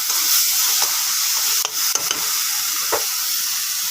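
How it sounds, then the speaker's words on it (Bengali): Tilapia curry sautéing and being stirred in a wok, a steady loud sizzle with a few sharp scraping stirs of the spatula, no voices. "ভালো করে কষিয়ে নিচ্ছি"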